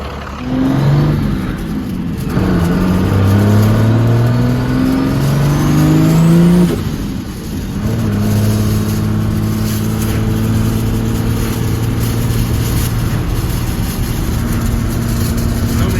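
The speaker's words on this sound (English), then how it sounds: "I'm gonna let a little bit of heat in the motor, and then once it gets warmed up, take it out for a little spin" A P-pumped 24-valve Cummins diesel in a burnout truck runs close and loud, rising and falling through several revs with a short dip before settling into a steady, rumbling idle. No one speaks.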